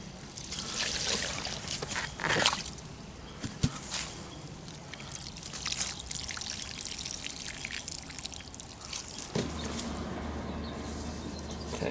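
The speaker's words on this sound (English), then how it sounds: "Next step is to drain the hide." Water draining and trickling from a container holding a raccoon hide being tanned, a steady splashing flow with a few knocks and handling sounds, fairly close and continuous throughout.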